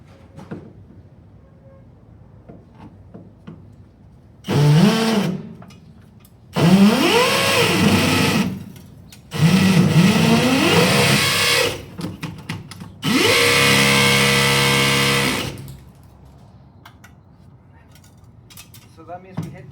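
A power drill bores into a wall to mount a security camera, starting with a small bit, sounding in several loud bursts of a few seconds each with quiet gaps and faint background noise between them.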